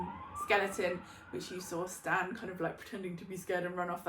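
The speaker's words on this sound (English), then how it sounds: "sorry for the sirens" Emergency vehicle sirens pass outside with a faint rising wail, heard in the background beneath a person talking close by indoors.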